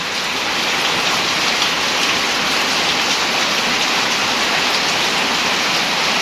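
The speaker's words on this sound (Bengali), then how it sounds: "তো দেখতেছেন প্রচণ্ড পরিমাণ বৃষ্টি।" Heavy rain pours down steadily in a Bangladeshi village, a dense, loud, unbroken roar of drops hitting surfaces with no voices.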